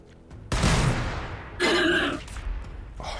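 Space Marines open fire in Warhammer 40,000: Battlesector, with two loud bursts of gunfire separated by a short pause and a fainter report near the end.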